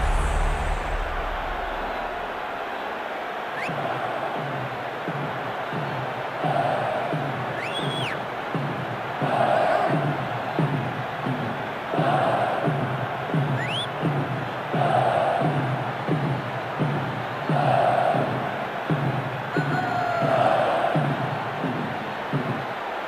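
Stadium crowd noise in the football video game eFootball PES 2026, a steady roaring murmur with rhythmic waves of chanting and cheering that swell every few seconds, with commentary over it.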